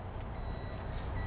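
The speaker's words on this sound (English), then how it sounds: "Stop dinging at me, truck." A steady electronic warning chime dings repeatedly from a truck cab just after refueling with diesel, a thin high tone sounding over a low engine rumble.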